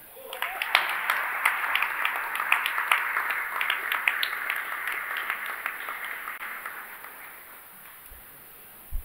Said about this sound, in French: je vous demande d'applaudir Frédéric Picot